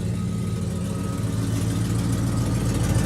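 A car engine with a full 3-inch exhaust idles with a deep, steady rumble through the exhaust, close and continuous, with no voices.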